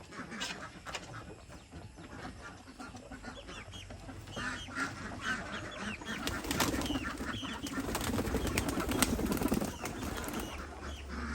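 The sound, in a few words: pigeons kept in a chicken coop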